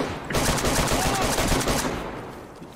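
Rapid gunfire in the survival video game DayZ, a dense burst of shots lasting about two seconds, loud and close, then fading out.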